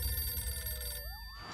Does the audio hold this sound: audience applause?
no